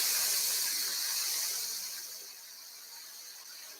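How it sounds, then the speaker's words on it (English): A handheld laser welder working on metal gives off a steady, close, bright hiss that softens slightly midway and then holds level, with no voices. "And we are welding with friggin' laser beams."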